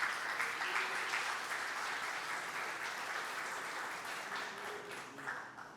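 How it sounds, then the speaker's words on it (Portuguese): A church congregation claps together in sustained, fairly loud applause that holds steady throughout and tapers slightly near the end, with no speech over it. "Pode aplaudir, irmão."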